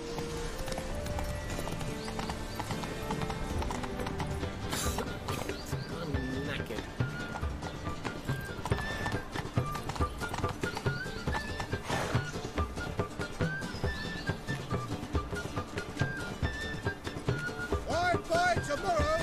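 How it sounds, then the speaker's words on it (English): Horse hooves clip-clopping on city streets and stairs while riding in The Witcher 3, a steady rhythmic beat under game music and a talking voice, with an occasional whinny. "It's hard riding the horse up the stairs."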